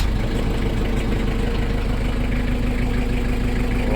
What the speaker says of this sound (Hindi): ये हमारा जनरेटर है भाई, इस जनरेटर को अभी स्टार्ट करने वाला हूँ मैं